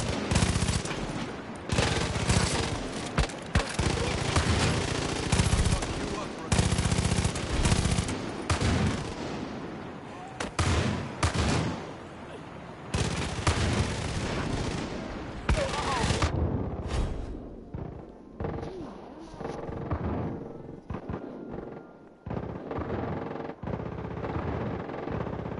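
Shotgun blasts and other gunfire in the video game Far Cry 5, loud and repeated across a dense, chaotic firefight, with a voice talking over the shots and quieter gaps near the end.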